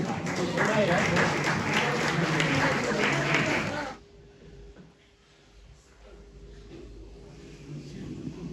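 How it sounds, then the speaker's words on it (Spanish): Audience applause at a tonada (Asturian folk song) festival, a dense, steady crowd clapping for about four seconds before cutting off into quieter room noise. "Aplauso grande, Gerardo Menéndez."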